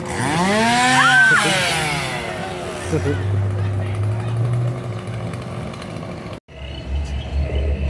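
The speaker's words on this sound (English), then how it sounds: "someone who's chasing others and he's got a chainsaw" A loud small-engine chainsaw with no blade, at a Six Flags Halloween event, revs and idles with a rising, sweeping whine, settling into a steady buzzing drone, with voices shouting over it.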